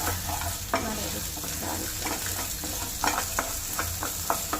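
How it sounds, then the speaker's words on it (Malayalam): Chopped garlic sizzles steadily in gingelly oil in a pan while a utensil stirs and scrapes it in short, repeated strokes. The frying hiss stays loud and continuous throughout, close to the listener. "ഫസ്റ്റ് ആ പാത്രത്തിൽ തന്നെ നമ്മൾ കുറച്ച് ഓയിൽ ഒഴിച്ച് കുറച്ച് ഗാർലിക്ക് ചോപ്പ് ചെയ്തത്"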